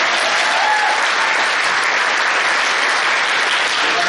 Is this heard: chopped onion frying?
no